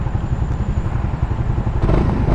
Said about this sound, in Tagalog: Maganda ang tunog niya, maganda ang stock exhaust.